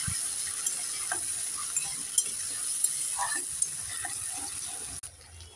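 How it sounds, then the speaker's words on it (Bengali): Ginger, green chili paste and ground tomato frying in a pan for a Bengali potato curry, a steady soft sizzle with light scrapes and taps of a spoon stirring, close and even throughout, no talking. "দিয়ে দেব আদা আর কাঁচা লঙ্কা বাটা, দিয়ে দেব বেটে রাখা টমেটো। একটু নেড়ে চেড়ে দিয়ে দেব।"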